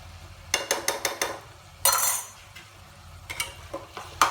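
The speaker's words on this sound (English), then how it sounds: "Get the cream mixed with it" A spoon clinks and scrapes against a pot as homemade cream is mixed into spicy mince meat, with bursts of quick metallic taps, a louder scraping stir, then more scattered clinks, close and without talk.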